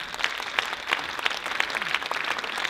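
A concert audience applauds at a gala concert of an international children's and youth music competition. The clapping is dense and steady, with sharper claps rising from the crowd throughout.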